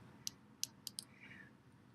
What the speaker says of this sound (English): You'll still hear a little bit of clicking.